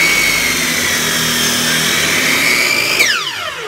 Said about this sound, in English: So I'm going to run it through my planer.